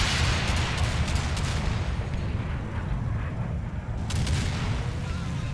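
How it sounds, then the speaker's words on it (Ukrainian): A deep, continuous roar of explosions and gunfire as a tank is hit and its ammunition explodes in the video game Combat Mission Shock Force 2, with heavy low rumble and crackling bursts, loud and dense throughout. "Попадання в танк, і там вибух боєкомплекту відбувся."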